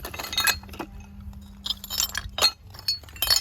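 Old glass bottles and jars clink and knock together while being dug out of a 150-year-old privy vault, with several sharp, scattered clinks and rattles close by over a faint low background.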